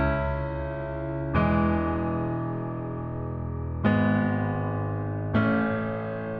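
Strummed, humanized piano chords programmed in FL Studio, each chord rolled slightly rather than struck at once, three long sustained changes ringing evenly with no voices.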